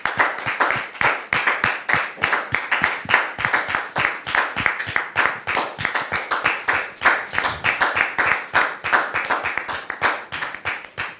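A studio audience claps as a guest named Dame Josiane enters, brisk and loud with rhythmic, sharply defined hand claps that continue steadily for over ten seconds with no voices over them.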